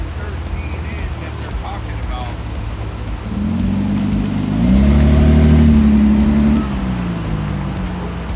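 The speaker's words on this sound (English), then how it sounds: "Somebody driving by looking for something." A car drives past outdoors, its engine hum swelling in the middle as it comes close, then fading again, with wind buffeting the microphone throughout.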